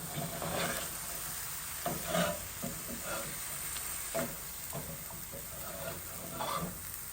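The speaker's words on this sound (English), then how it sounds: "I'm going to stir all of this together" Ground beef seasoned with sage and paprika stirred in a pan for stuffed pasta shells, with a soft steady sizzle and intermittent scraping strokes of the spoon, moderately close and no talking.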